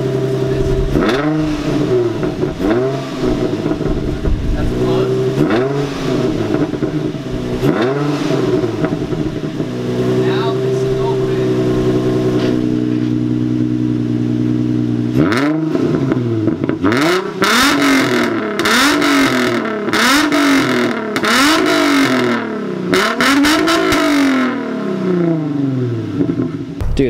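An Infiniti G35 with exhaust cutouts open revs repeatedly, each blip rising and falling in a loud, raspy, brassy sweep, followed by a steadier held drone and then another burst of rapid revs, with voices faintly underneath.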